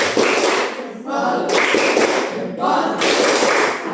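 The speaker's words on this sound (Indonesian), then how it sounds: "Tepuk tangan atau tepuk salut dulu buat kelompok 3" A class applauds a student group after its presentation, with broadband clapping in three loud bursts separated by brief lulls, filling the room.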